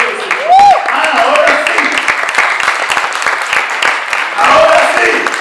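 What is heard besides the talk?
audience applause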